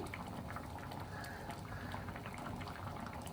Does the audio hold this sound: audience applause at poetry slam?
no